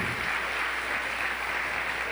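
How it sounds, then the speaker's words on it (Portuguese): A church congregation at a Rio de Janeiro service applauds loudly and steadily, a dense wash of clapping that fills the brief moment without any voices over it. "Aplauda bem forte aos céus."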